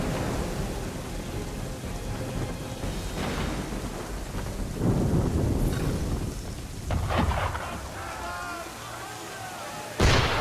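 Cannon fire booms from an enemy ship at sea in Assassin's Creed III, heavy low blasts landing around 5, 7 and 10 seconds over a constant rumble of wind and water, with voices talking in between.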